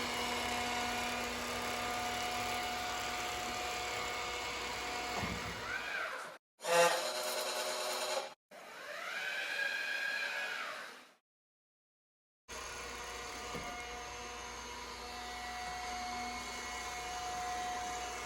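An iRobot Scooba mopping robot runs with a steady whirring motor hum, cutting out briefly to short bursts and silence before the drone resumes, close and fairly loud with no talking.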